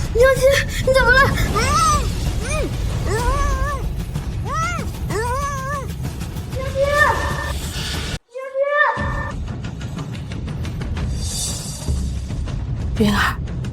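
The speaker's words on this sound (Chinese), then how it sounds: "也许是这附近的野猫吧" Whining, meow-like cries with rising and falling pitch repeat through the scene over a steady background, with voices speaking, likely a stray cat nearby.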